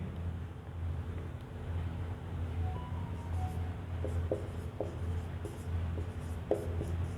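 Chalk or marker scratching on a board during a maths lesson on real numbers, a few short faint strokes over steady room hum and background noise.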